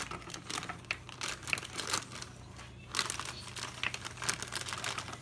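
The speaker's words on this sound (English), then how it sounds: "And now I'm gonna add the brownie mix. Go ahead and put the whole bag in there." Ghirardelli brownie mix with chocolate chips is emptied from a bag into a bowl, with soft papery crinkling and a gritty rustle of powder pouring, quiet and close, with no talking.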